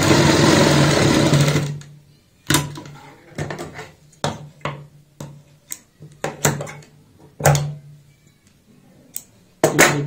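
A sewing machine runs in a steady burst for the first second and a half while stitching elastic onto a child's frock, then short clicks and handling knocks follow at irregular intervals.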